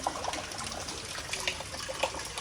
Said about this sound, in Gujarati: ફરિયામાંથી થોડા થોડા પાણી હાલતા થયા વરસાદના કારણે